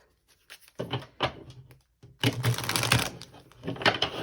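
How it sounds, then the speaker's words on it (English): A tarot deck of thick, stiff cards being shuffled up close, giving bursts of papery riffling and slapping separated by short pauses, with one longer, denser run of shuffling near the end. "these cards are really challenging to shuffle"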